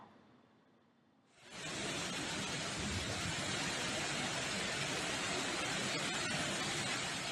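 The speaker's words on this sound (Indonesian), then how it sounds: "Hujan deras disertai kencangnya hembusan angin menerjang permukiman di wilayah Klaten" Heavy rain driven by strong wind pounds a residential area in Klaten, starting abruptly as a dense, loud, steady roar that holds without pause.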